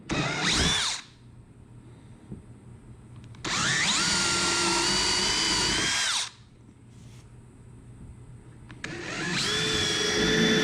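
A power drill cutting mounting holes in a Perception Pescador Pro kayak for a trolling motor install, three separate whirring bursts, each rising quickly and stopping abruptly, with quiet gaps between them.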